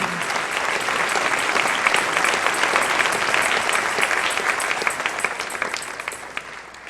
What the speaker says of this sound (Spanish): Dale un aplauso al Rey en esta hermosa mañana.